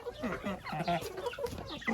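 Naked neck chicken clucking and chattering in a farmyard, a quick run of close, uneven clucks and soft vocal calls.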